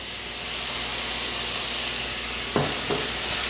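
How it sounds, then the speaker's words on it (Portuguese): Chopped tomato sizzles steadily in a pan with sautéed onion and carrot, a continuous close hiss broken by a couple of sharp scraping stirs near the end. "Eu vou ficar mexendo aqui até esse tomate começar a desmanchar"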